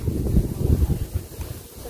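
Strong night gusts in Sto. Tomas, Batangas buffet the microphone in a continuous low rumble, fairly loud and close, with no voices.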